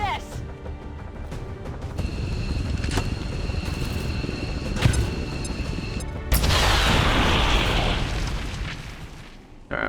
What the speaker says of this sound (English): we just drop a plasma grenade on him